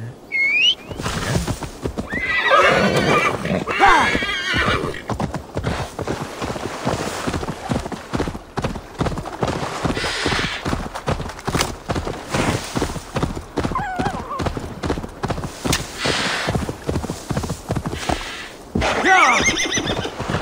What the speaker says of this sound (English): I've already forgotten that I can summon a horse, right?